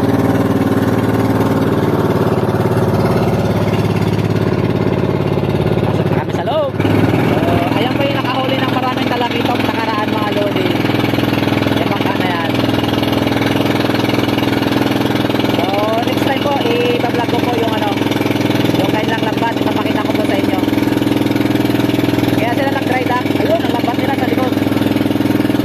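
A fishing boat's replacement engine runs steadily on the water, a loud continuous drone with a brief dip around the seventh second, while people talk over it.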